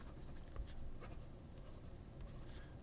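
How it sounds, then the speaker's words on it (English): A thin-nibbed Jinhao fountain pen scratching across paper, soft continuous strokes with faint ticks, close and quiet. "Lastly, let's write this thinner one, which is a Jinhao."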